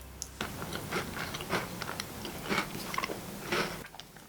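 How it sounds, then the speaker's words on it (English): Someone bites into and chews a soft Japanese snack up close, producing a series of gentle, crisp crunching chews at a steady pace, quiet and intimate with no talking. "Hopefully you could hear that soft crunch."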